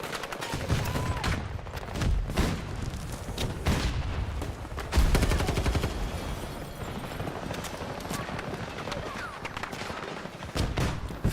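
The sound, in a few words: enemy gunfire in video game Battlefield 2042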